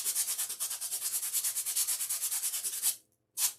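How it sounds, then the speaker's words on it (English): Low-grit sandpaper sanding a faux gumdrop, giving a close, steady run of rhythmic rasping strokes for about three seconds, then a short pause and one final stroke. "So I'll start off with the lower grit to get it smooth."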